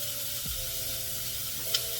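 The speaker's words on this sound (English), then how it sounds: "I put a little bit more oil in my cast iron skillet, and we are going to cook some onions until they get soft" Onions cook in oil in a cast iron skillet, giving a steady, fairly loud sizzle that runs without a break, with one small pop near the end.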